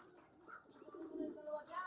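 Soft, low cooing of a racing pigeon, faint and murmuring, with a quiet background and a hint of voice.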